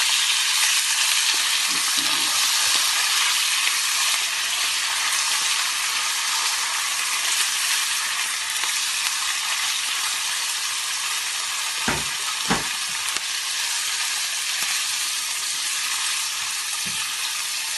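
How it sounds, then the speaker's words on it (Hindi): Boneless chicken breast pieces fry in a hot pan, giving a steady, close sizzle that runs without a break. A few brief clinks and scrapes of stirring come through near the end. "अब हम इसमें डालने लगे हैं चिकन।"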